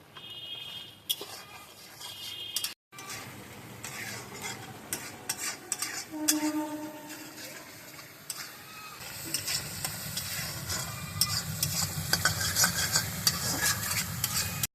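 A spatula scrapes and stirs spices frying with turmeric in a pan for a hilsa fish and eggplant curry, with intermittent clinks and a hissing sizzle that grows louder and denser toward the end.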